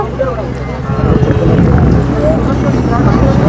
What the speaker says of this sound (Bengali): আমাদের লঞ্চ এগিয়ে চলেছে, ওপারে যাব আমরা।